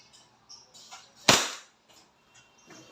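A WE Hi-Capa gas airsoft pistol fires a single semi-automatic shot through a chronograph, one sharp close pop that fades quickly, with faint clicks and handling noise around it.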